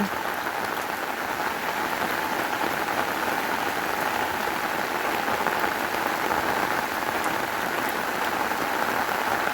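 Steady rain falls in a dense, even hiss, close and constant throughout with no pauses or voices.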